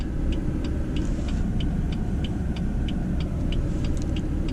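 A BMW M4 F83 convertible drives off with a steady, loud engine rumble in manual mode, accompanied by a faint repeating tick.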